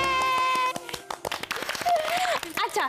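A small group of people clap their hands in cheer, a quick scattered patter of claps mixed with children's voices and music over roughly three seconds.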